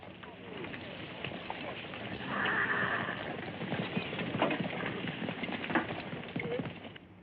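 A company of horses clatters off in a dense mass of hoofbeats with faint whinnies, in an ancient biblical battle setting, under a noisy, muffled mix with voices faintly present.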